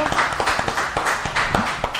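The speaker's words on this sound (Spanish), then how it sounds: "Un gran aplauso, por favor, para nuestro músico." Steady applause from a small live audience for a musician, with close, evenly spread hand claps holding a constant level for the full two seconds.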